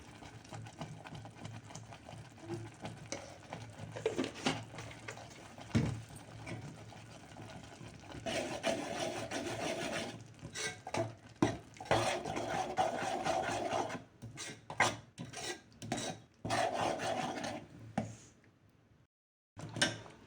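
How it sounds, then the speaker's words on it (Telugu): Masala with ginger-garlic paste frying in a pan while being stirred, close scraping and rubbing strokes over a low steady sizzle, growing busier midway before falling quiet at the end. "ఈ మసాలా బాగా వేగాలి."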